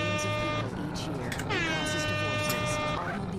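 An air horn blares in a radio commercial inside the video game GTA San Andreas, sounding several loud blasts over a busy background mix with a voice talking.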